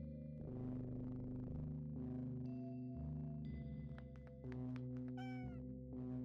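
Cartoonish cat meows from the video game OneShot World Machine Edition ring out in several short rising calls over a steady musical backdrop, with a few quick chirpy tones near the end.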